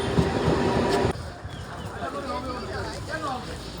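A lightly crowded local commuter train near Kalyan station, a loud rumbling run that drops to a quieter rolling rattle after about a second, with faint voices beneath.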